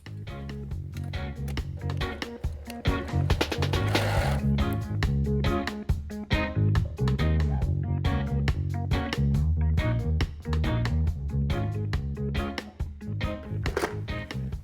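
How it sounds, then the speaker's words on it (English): A sewing machine with a zipper foot installed stitches fabric for a carrot-shaped zipper pouch, a rapid steady mechanical clatter running in bursts with brief pauses, close and fairly quiet, no speech. "head back to the sewing machine, zipper foot still installed, and do the same thing we just did."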